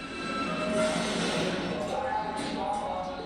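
A New York subway train rumbles steadily with a broad metallic roar and faint wheel screeches, close and continuous.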